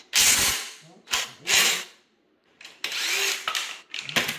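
Bolts being removed from the factory skid plate of a 2022 Suzuki DRZ400SM with a power tool, several short bursts of whirring and rattling mechanical noise separated by brief pauses, close and loud.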